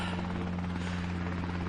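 Helicopter rotor and engine drone steadily at moderate distance, a continuous low throbbing hum with no voices over it.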